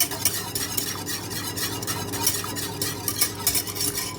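A whisk beats béchamel sauce in a pan with rapid, rhythmic metallic strokes, a close and busy scraping patter that runs steadily without pause and with no voices.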